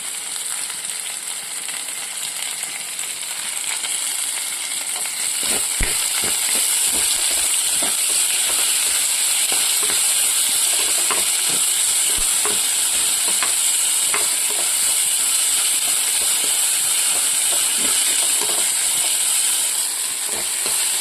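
Curry leaves dropped into hot oil with onions for a Kerala mushroom and colocasia stem theeyal, giving a loud, steady frying sizzle and hiss with crackling bursts and stirring, close up with no talk.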